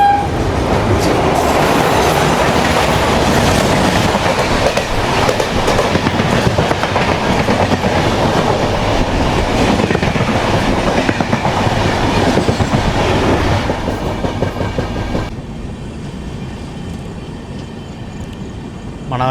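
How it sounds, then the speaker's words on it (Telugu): A weekly express from Sainagar to Tirupati rumbles past at close range, a loud sustained roar of wheels with clickety-clack over rail joints, then dropping to a quieter running rumble near the end. "సాయినగర్ స్టేషన్ నుంచి తిరుపతికి వెళ్ళే వీక్లీ ఎక్స్ప్రెస్ అయితే వస్తుంది"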